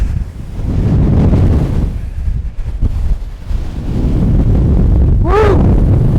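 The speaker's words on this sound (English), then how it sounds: "Oh, it's windy!" Loud, continuous wind buffeting and rumbling against the microphone on the exposed mountain fells of Bowfell and Crinkle Crags, with a brief descending whistling chirp near the end.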